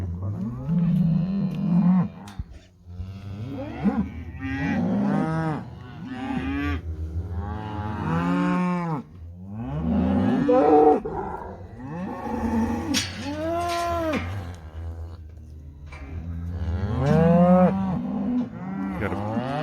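Cattle on a ranch at calf shipping and sale time, cows and calves mooing loudly and repeatedly, overlapping bawls near and far throughout with little pause.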